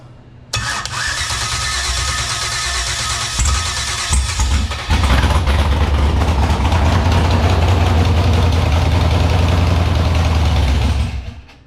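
A 5.3 V8 with Sniper EFI and an MSD 6014 box, fitted in a Fox Body Mustang, cranks and catches, then settles into a loud, rumbling close-up idle that runs steadily for several seconds.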